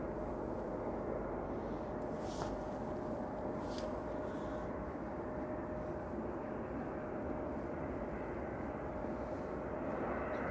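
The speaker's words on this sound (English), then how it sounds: "737-800, just touching down." A Ryanair Boeing 737-800 arriving from Paris Beauvais touches down at Manchester Airport, heard as a faint, distant, steady jet rumble with no voices.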